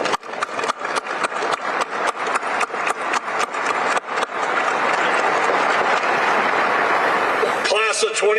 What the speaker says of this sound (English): So please join me in a round of applause for everybody that's gotten you to this point.